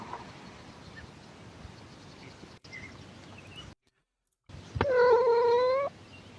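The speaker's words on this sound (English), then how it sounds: "Those are meow meow cats." Cats meow and caterwaul, faint cries at first, then after a short silence a loud, drawn-out wailing meow close by.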